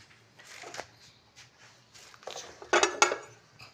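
Ground chana dal is tipped into hot ghee in a kadhai, with light clinks and scrapes of a spoon against the pan building to a louder cluster of metallic knocks near the end.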